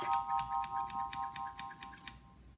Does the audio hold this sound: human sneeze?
no